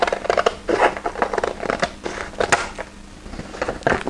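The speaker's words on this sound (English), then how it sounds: "then use my scissors to cut the bottom" Scissors snipping through a stack of three or four printed paper sewing pattern pages, a steady run of close, crisp cuts with papery crinkling and rustling between the snips.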